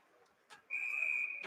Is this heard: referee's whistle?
yes